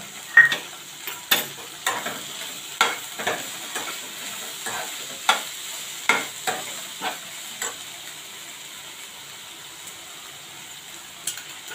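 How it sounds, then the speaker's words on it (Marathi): Vegetables lightly sautéed in a pan for restaurant-style Chinese bhel, a spoon or spatula tapping and scraping in a steady rhythm of sharp knocks over a faint continuous sizzle. "एक मिनिट या भाज्या आपण थोड्या हलक्या परतून घेणार आहोत"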